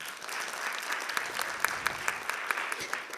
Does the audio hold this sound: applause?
yes